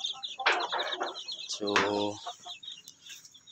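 Chicks and chickens cluck and chirp in short bursts nearby in a breeding pen, with a brief spoken word near the start.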